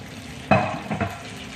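Shrimp hit hot oil in a small pan with a sudden close sizzle burst that fades into a quieter crackle, with a second brief flare of frying about half a second later.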